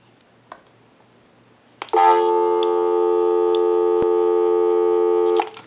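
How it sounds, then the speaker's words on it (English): A busy signal plays through the handset of an original-model Mickey Mouse telephone under repair, a loud steady tone that starts abruptly after a few faint clicks and holds for several seconds. "We can call my number and it'll be busy."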